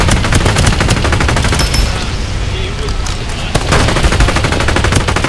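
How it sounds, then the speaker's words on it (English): Gunfire in the video game Farlight 84: loud, rapid automatic bursts crackling back to back, a short lull near the middle, then a heavy salvo resumes near and forceful. "Open fire!"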